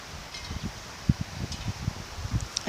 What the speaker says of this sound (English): See how windy it is? Trees are just given.